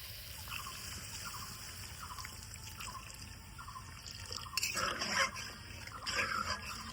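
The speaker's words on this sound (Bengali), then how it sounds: "এবার দিয়ে দিব জল" Water pours from a vessel into a pan of crab curry with mustard paste, a soft, quiet trickle and splash with a few brief louder splashes near the end.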